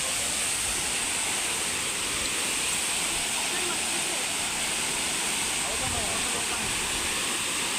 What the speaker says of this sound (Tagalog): Pahangog Twin Falls